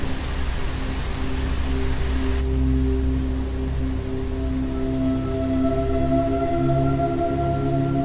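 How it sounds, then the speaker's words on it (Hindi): Heavy rain pours steadily outside a school building, a dense, constant wash of falling water with a low rumble underneath and faint steady tones drifting in, with no voices. "बाहर बहुत तेज बारिश हो रही थी।"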